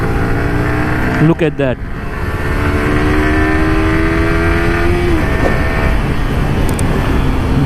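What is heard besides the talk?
Yamaha R15 V3 155cc motorcycle engine revving while riding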